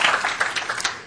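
Brief burst of audience applause in a lecture hall, many hands clapping in a dense, lively patter that tapers slightly.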